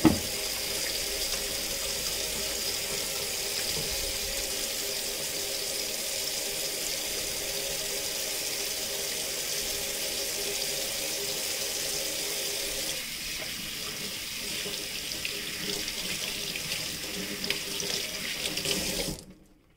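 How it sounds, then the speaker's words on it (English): A kitchen sink tap runs steadily while hands are washed under it, a close, continuous splashing hiss of water that shifts slightly partway through and stops abruptly at the end. "I'm going to wash my hands"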